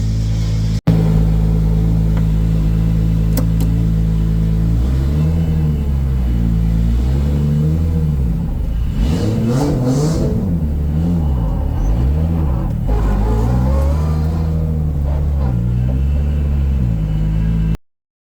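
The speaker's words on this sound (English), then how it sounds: "She's running, clutch seems to work, so yeah, take it for a drive." A car with a turbocharged Toyota 2JZ VVT-i engine on its first drive after a build, with a loud close engine drone and rumble that rises and falls through repeated revs and gear changes.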